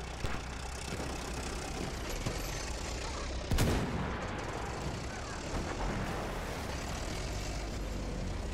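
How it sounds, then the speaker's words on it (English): Battlefield 1 gunfire rattles through a dense wartime din of engines and distant battle noise, with one sharper, louder burst standing out midway amid a steady backdrop of mixed combat sound. "Where are the shots coming from?"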